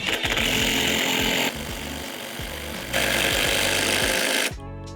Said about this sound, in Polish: I po prostu wkręcamy go.